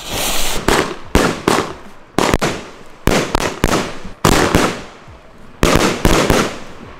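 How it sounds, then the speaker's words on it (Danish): A consumer fireworks battery fires shot after shot into the air on New Year's Eve, loud sharp bangs in irregular bursts of two or three with crackling tails, about a dozen reports over several seconds. "Det næste batteri, vi fyrer af, det er det her ørken fra til Hansen. Det skal bare op i luften nu."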